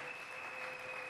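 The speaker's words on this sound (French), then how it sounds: "Acclamons très fort pour les voix." A church congregation applauds loudly and steadily during a pastor's sermon, a dense unbroken wash of clapping from a large crowd, with no voices rising above it.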